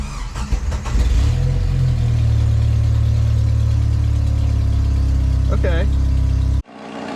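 A Jeep TJ engine fitted with 4-hole injectors catches and settles into a loud, steady idle close by, running unbroken until it cuts off near the end, with a brief spoken word early on.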